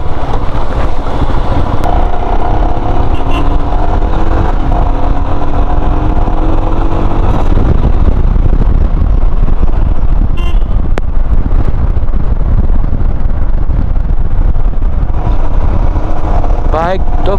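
Motorcycle riding on a blacktop highway in Sikkim, a steady loud engine drone with wind rush throughout, with a rider talking over it.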